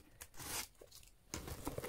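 Thin plastic foil packaging is torn open while unboxing, in short crinkly ripping bursts close to the microphone, quiet, with a pause between pulls.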